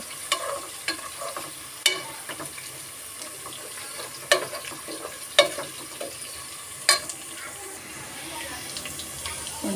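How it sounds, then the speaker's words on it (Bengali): Oil sizzles softly as chopped garlic fries, under scattered scraping and clinks of a spatula stirring in a pan, close up. "রসুনের তেলের ভিতরে রসুন কুচি দিয়ে দিলাম রসুনটা একটু ভাজা হোক"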